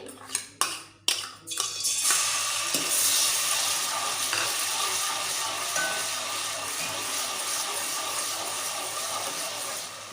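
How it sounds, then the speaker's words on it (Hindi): Garlic ginger paste fries in oil left over from frying eggs for an egg curry, opening with several sharp clattering pan knocks and then settling into a steady, even sizzle. "हमारा ऑयल जो बचा था हमने जिसमें अंडे फ्राई करे थे उसी में हम ये अब लहसुन अदरक का पेस्ट मिला देंगे।"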